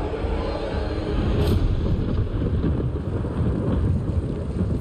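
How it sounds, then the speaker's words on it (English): A rumbling thunderclap from the Mortal Kombat 1 video game, a dense low roar with windy, storm-like texture that stays loud and steady across the whole span with no talking. "Thunderclap!"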